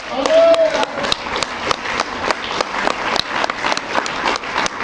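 A church congregation claps in a lively, rhythmic burst of applause, near and fairly loud, with voices calling out over the clapping.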